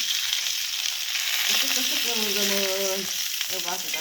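Aloo wadi, colocasia leaf rolls, frying in hot oil, a steady close sizzle and crackle throughout with a few brief tonal squeaks from the pan, no talking.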